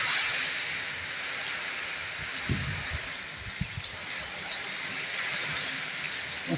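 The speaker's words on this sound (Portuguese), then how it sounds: "Há quanto tempo, galera, que eu tive um temporal desse." Heavy rain from a windy storm on a small farm hisses steadily and evenly nearby, broken by a few soft thumps and low rustles, with no voices.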